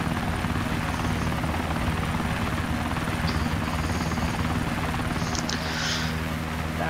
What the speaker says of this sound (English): Right, I am in a KA-50, it's a Russian helicopter.